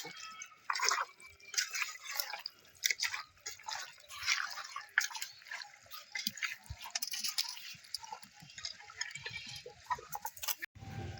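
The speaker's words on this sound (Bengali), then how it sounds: "খুব ভালো করে মাখাতে হবে বন্ধুরা।" Hands knead mutton pieces through a wet marinade, producing steady close squishing and dripping sounds with a continuous irregular rhythm.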